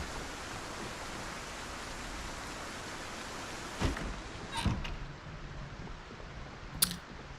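Strong storm wind in the video game Project Zomboid, a steady, even roar that holds for the whole stretch, with a few brief sharp clicks near the end.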